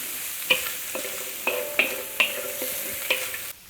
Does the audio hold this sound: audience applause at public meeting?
no